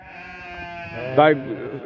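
A sheep bleats once, loud and close, from a flock of ewes with lambs, rising out of a low, steady farmyard murmur partway through.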